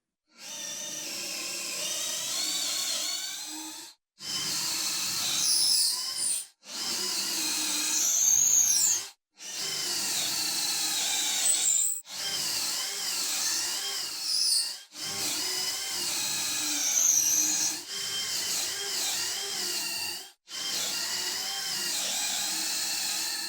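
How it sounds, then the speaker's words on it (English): Power drill boring dowel holes into white oak nightstand legs, a series of whirring high-pitched bursts of a few seconds each, separated by short silent pauses, close and loud. "then we'll have to drill holes into the legs to accept those dowels"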